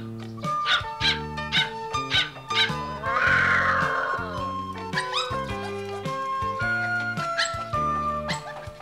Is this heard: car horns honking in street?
no